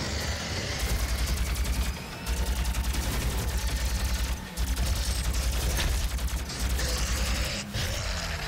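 Shotgun fire in Doom (2016) over driving, pulsing heavy game music, with brief loud blasts and mechanical clacks breaking through the dense mix.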